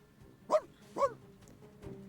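Dogs bark in the distance in a video game: two distinct barks about half a second apart, then a fainter third, faint and far off with no talk.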